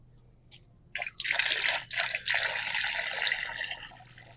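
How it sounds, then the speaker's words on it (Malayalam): Water splashes into a bucket after a couple of brief drips, then a steady, close pouring rush that gradually eases off. "നമുക്ക് ഇതിലേക്ക് ഒരു അഞ്ച് ലിറ്റർ വെള്ളം മിക്സ് ചെയ്യാം"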